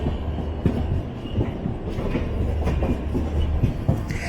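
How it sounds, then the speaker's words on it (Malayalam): The 16528 Kannur–Yesvantpur Express, hauled by a diesel locomotive with its generator car running, gives a steady, close rumble with rhythmic clickety-clack of wheels over rail joints, and no voices. "ഡീസൽ ലോക്കോ ആയതുകൊണ്ട് നമ്മുടെ ജനറേറ്റർ കാർ ഓണാണ്."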